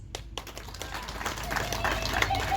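An audience at a political speech for the FDC claps, starting as scattered hand claps and growing into fuller applause that continues to the end, with some talk mixed in.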